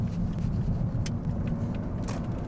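A 2012 Lexus CT200h hybrid cruising on the road, with a steady low rumble of tire and road noise from inside the cabin and faint clicks and ticks over the top.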